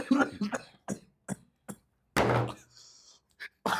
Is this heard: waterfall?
no